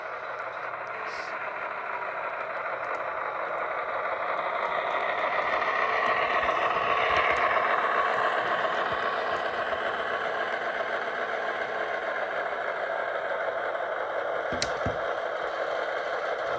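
A Broadway Limited GE AC6000 model locomotive in Southern Pacific livery running with its sound system on, a steady whirring diesel drone that swells slightly midway, with faint clicks.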